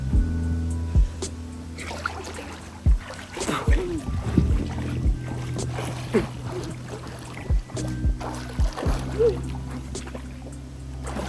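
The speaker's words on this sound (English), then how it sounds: "when you're kicking without them, there should be a little bit of splash" Water splashes and sloshes in a pool as a beginner swimmer kicks, with irregular bursts of splashing over a humming background and occasional faint voices.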